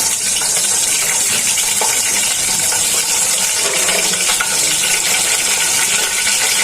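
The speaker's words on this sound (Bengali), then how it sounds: "এখন তেলটা গরম হয়ে গেছে, তেজপাতাটা দিয়ে দিচ্ছি" Bay leaves drop into hot oil in a pan while pulao is being cooked, giving a steady, loud sizzle and crackle throughout with no voices over it.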